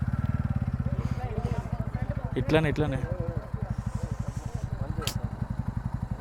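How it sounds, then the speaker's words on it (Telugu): Motorcycles approach on a road through Coorg in Karnataka, their engines thumping in a steady near rhythm with a brief rev partway through, while a person speaks over them. "అయ్యో, 2 బైక్స్ వచ్చినాయి."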